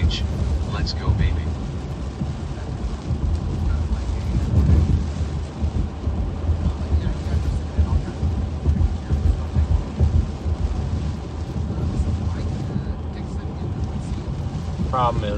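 Severe thunderstorm over the central United States, with a steady wash of rain and wind and deep rumbling thunder swelling throughout, while people talk underneath.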